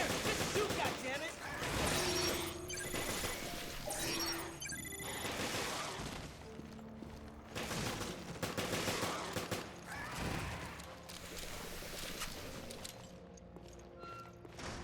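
Gunfire in Resident Evil Revelations, a string of sharp, fairly quiet shots and bursts through a busy battle scene, mixed with game sounds and talking.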